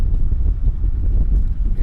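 Wind buffets the microphone at a cricket ground in Constantia, a steady low rumble with gusty swells and no voices.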